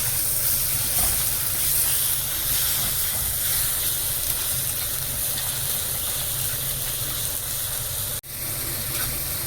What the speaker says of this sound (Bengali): মশলাটাকে ভালো করে ভেজে নেওয়া একটু, ঢেকে দেবো।